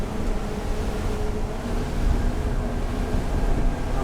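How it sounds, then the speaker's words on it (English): A NAVAN C30 boat with twin 250 hp Mercury outboards cuts through waves, giving a dense, continuous roar of engine, hull slap and wind rush that stays loud and steady. "The boat's riding well. I'm cutting through it."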